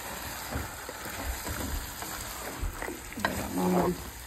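Rice pulao ingredients sautéed and stirred in a pan, a steady soft sizzle with repeated scraping strokes of a spoon, growing a little louder near the end.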